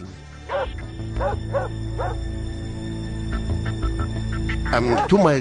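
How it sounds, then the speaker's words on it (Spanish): KGB guard dogs barking, yipping and whimpering at a border crossing, repeated barks fairly close over a steady low engine-like rumble. "Oía las voces, incluso el ladrido de los perros del KGB."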